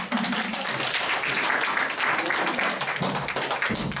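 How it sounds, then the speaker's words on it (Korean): A lecture audience breaks into steady applause, a dense wash of many hands clapping close and continuous throughout, briefly overlapped by a voice. "이쯤 되면 박수가 안 나오나 모르겠어요."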